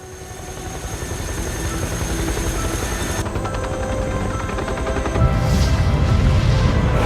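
A helicopter in a video game trailer thrums steadily and loudly throughout, with layered engine and rotor noise that swells and turns rougher near the end, alongside booming, gunfire-like impacts.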